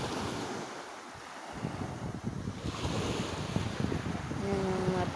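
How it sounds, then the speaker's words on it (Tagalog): Rough sea waves roll onto a windy beach where small outrigger fishing boats are moored, a continuous roar of surf mixed with heavy wind buffeting the microphone, steady and fairly loud with no talking. "Basta maalon, guys."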